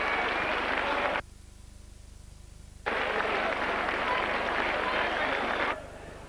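After a try in a rugby league match between St Helens and Wakefield, the stadium crowd roars and applauds in two loud, sustained bursts with a short lull between them.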